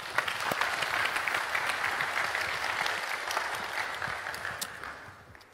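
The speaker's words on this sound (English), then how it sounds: "So let's give him a big round of applause." An audience at a technical conference talk applauds a speaker, a dense sustained clapping that stays steady before fading toward the end.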